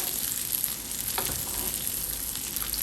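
Sirloin steak sizzling in a hot pan while being basted, a constant close crackling fry with occasional sharper spatters and spoon scrapes.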